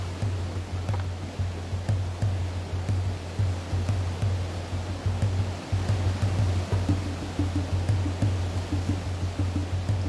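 Itanda Falls rapids in Uganda rush and roar in a steady, dense wash of white water with a deep low rumble underneath, loud and continuous throughout with no voices.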